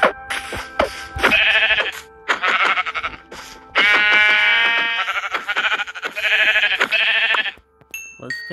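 Sheep in the Minecraft video game bleat repeatedly, loud and close, in a string of short nasal calls broken by brief pauses, with a few thin high tones near the end.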